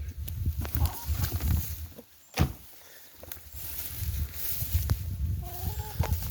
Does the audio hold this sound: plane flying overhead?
no